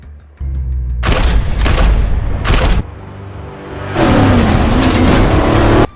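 A car plunges into a ravine during an action-film chase, heard as loud crashing impacts and booming bursts amid roaring engine noise, ending in a sustained rumbling din.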